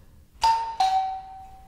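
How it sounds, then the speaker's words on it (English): A doorbell rings with two clear chime strikes, the second ringing out longer and fading, loud and close against a quiet room. "The doorbell rang."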